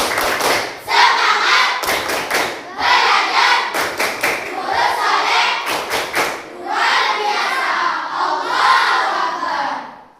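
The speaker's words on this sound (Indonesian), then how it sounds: "coba tepuk semangat" A school class performs a rhythmic tepuk semangat clapping chant, loud bursts of clapping in set patterns with sharp unison claps between, and voices shouting along with the beats.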